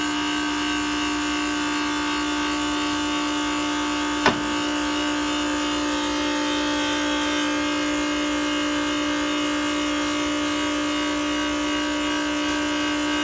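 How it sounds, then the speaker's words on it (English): The hydraulic pump on a Hyster H360 forklift runs with a steady, loud electric whine and hum throughout, with one brief sharp click partway through. "You hear the pump loading up."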